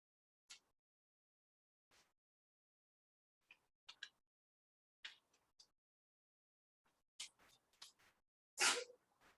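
A sneeze bursts out loudly near the end, following a few fainter short breathy sounds and small noises in an otherwise quiet room during a math lesson.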